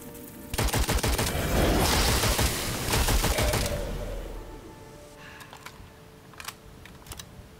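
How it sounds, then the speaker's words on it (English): Airstrikes in the video game Witchfire: a rapid barrage of sharp impacts and explosions rumbling for a few seconds, then fading to scattered faint pops and clicks, no talking. "Oh, it has airstrikes."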